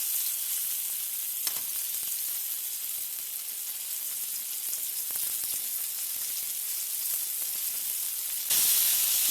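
Yellow bass fillets fry in a pan, giving a steady close sizzle and crackling hiss that runs unbroken throughout and grows slightly louder at the very end, with no voices.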